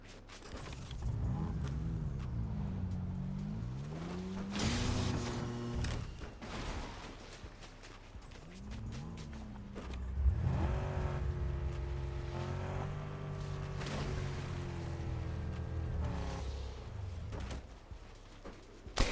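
A vehicle in Fortnite gameplay runs with an engine hum that swells and dips as it revs and shifts, several rising surges over about nineteen seconds, fairly quiet with clunks mixed in.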